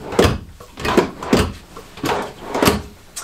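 Drawers in an RV washroom of a 2020 Keystone Montana 3760FL fifth wheel slide open and shut, giving about five close, hollow wooden thumps and rolling scrapes spaced roughly half a second apart.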